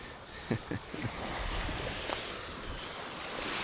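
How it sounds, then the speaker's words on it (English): Ocean waves and wind roll across the shore at Tiger Tail Beach on Marco Island, a steady close wash of surf with gusty wind buffeting the microphone and a few soft knocks early on, with no voices. "We just got on to Tiger Tail Beach."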